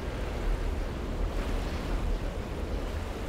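Rushing water far below in the video game Black Mesa, a continuous broadband wash like surf or wind, steady and fairly loud with no voices.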